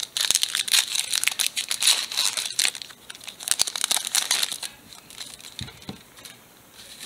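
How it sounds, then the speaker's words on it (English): Sun and Moon Pokemon card booster packs being torn open and handled, close crinkling and ripping foil in dense bursts, easing to quieter rustles near the end. "Now let's get these Sun and Moon packs opened up here."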